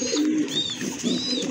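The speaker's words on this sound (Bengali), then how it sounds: "এই যে দেখেন এটা হচ্ছে আপনার নর কবুতরটা" A male pigeon at a nest with two young chicks coos twice in quick succession, close and clear over a steady low background hum, with no voices.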